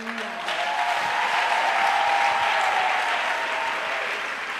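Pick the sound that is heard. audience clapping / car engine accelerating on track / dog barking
audience clapping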